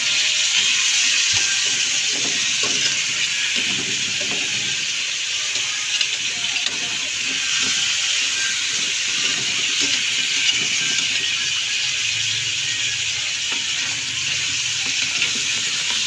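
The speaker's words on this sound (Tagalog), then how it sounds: "Yan, nagigisa na po ako." Crab sautéing in a pan for tinola gives a steady bright sizzle and hiss throughout, with faint clatter and low background murmurs underneath.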